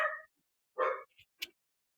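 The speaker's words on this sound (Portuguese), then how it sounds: "Meu cachorro do nada dá louca." A dog at home gives a few short barks and yips spaced across about two seconds, close and fairly loud, with quiet gaps between them and no talk.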